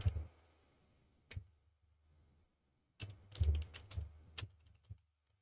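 Close, crisp computer keyboard typing as a custom product label is entered, with a short burst, a lone keystroke, then a quicker cluster of clicks and taps separated by quiet pauses.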